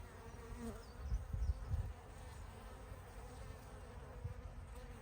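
Honeybee colony at the hive entrance bringing in pollen, a steady low insect hum of many bees throughout with a few louder buzzes passing close by, no talk.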